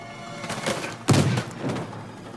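Gunfire in the action-adventure game Uncharted 4: A Thief's End, a few muffled shots and thudding impacts with one sharper, louder bang near the middle, fairly close, with no talking.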